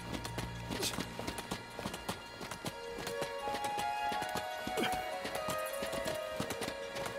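A big rat-like creature in Star Wars Jedi: Fallen Order gallops like a horse, with rhythmic hoof-like clip-clop footfalls running steadily throughout, plus game sounds around them.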